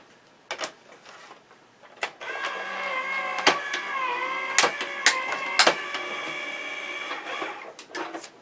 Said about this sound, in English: and die cut those. My die cutting machine is just off camera here.